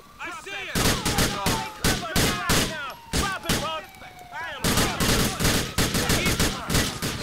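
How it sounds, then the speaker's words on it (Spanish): Rapid bursts of gunfire in the video game GTA IV crack loudly in quick volleys with short gaps, layered with pinging game effects. "Son muy realistas los tiros"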